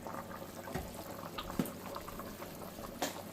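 A pot of rice cooking on the stove, simmering with soft, scattered bubbling and a few louder pops over a quiet, steady background.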